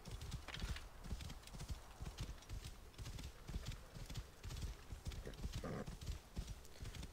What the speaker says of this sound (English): Horse, come on, you can go faster.